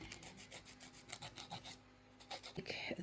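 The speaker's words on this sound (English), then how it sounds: "I'm going to grab my file." A nail file rasps back and forth across fingernails in quick, close strokes, a steady scratchy rhythm with a short pause partway through, no talking.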